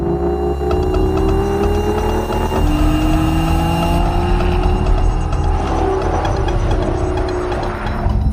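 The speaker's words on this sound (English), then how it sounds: "You're driving a 6-litre V12 sports car." A manual Aston Martin V12 Vantage S with a 6-litre V12 drones steadily while driving, its engine note rising gradually with a clear gear-change dip early on, loud and continuous with no talk.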